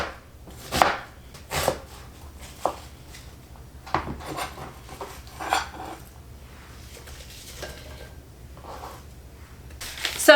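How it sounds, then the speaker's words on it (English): Onion being chopped into big chunks on a cutting board with a knife, several sharp separate chops spaced irregularly, close and fairly loud, with faint kitchen background between strokes. "And then for my onion, guys, I'm just gonna do big chunks, big chops."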